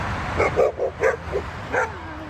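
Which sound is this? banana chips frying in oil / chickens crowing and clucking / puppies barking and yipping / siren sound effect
puppies barking and yipping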